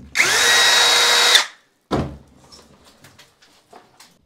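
A power drill whines loudly and steadily for over a second while backing screws out of a bathroom heater frame in an old house, then stops, followed by a brief thud and faint scattered clicks and handling noises.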